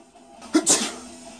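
A single abrupt sneeze, close and loud, with a quick inhale-then-burst shape and quiet before and after.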